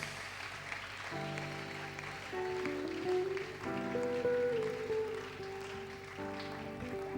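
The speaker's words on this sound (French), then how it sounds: "Une bonne offrande d'acclamation pour notre Dieu." Church congregation applauding, a steady patter of clapping with held sustained tones, likely music, over it, moderately loud and continuous.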